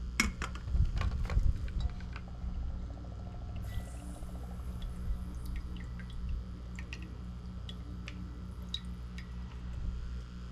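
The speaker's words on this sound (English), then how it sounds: "I'm just going to pour this out into my copper 2 chloride container" Mostly hydrochloric acid is poured out into a container of copper(II) chloride during gold recovery from gold-filled glasses: a quiet splashing pour at the start, then soft drips and small clinks.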